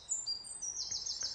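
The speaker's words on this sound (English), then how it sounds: "I'd flutter around the garden as the handsome blackbird sings" A blackbird sings in a garden, giving faint, high, sweet whistled phrases that slide and warble alone over quiet background noise.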